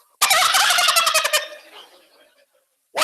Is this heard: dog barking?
no